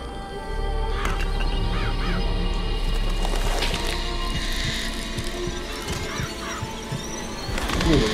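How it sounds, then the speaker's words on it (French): Summoned flock of murderous crows in the video game Bioshock Infinite, cawing and flapping in repeated harsh calls over a steady, loud game ambience, with a swell of noise at the end. "Press to summon murderous crows."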